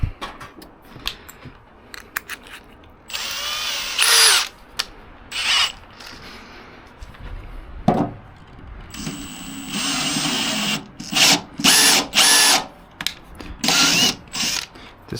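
A power drill runs in bursts while its socket slips, giving a ratcheting, clattering mechanical sound with pauses between, during reassembly work on a Scania 143H V8 truck; close and fairly loud.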